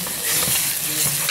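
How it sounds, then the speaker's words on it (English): Sirloin beef sears in a hot pan in a kitchen workshop, giving a steady broadband hiss and sizzle with soft stirring scrapes. "So you just sear it to seal in the juice that's inside the meat"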